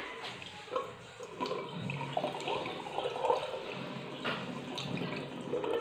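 Water from a pot used to clean off stubborn household scale is poured out into a sink, giving an uneven splashing, trickling flow for several seconds with no talk over it.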